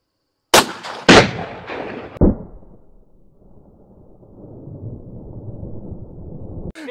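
A gunshot fired at cheap $30 Temu body armor at roughly 80 yards outdoors, heard as a few sharp loud cracks in quick succession followed by a long rumbling echo and wind noise, with no talking.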